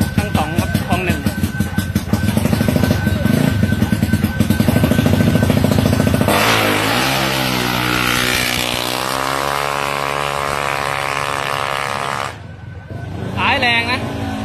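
A Honda PCX scooter engine revs hard at a Thai drag race, droning loudly with rising pitch, then shifting to a long steady whine before a brief drop and another rev near the end.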